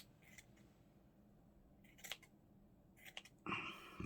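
Scissors snipping through book pages in a quiet room: a few short, crisp cuts spaced a second or so apart, ending in a louder, longer slice, close and distinct.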